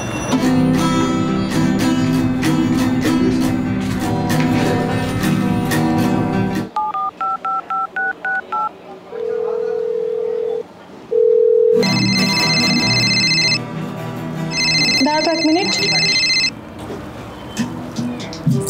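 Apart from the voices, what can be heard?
phone ringing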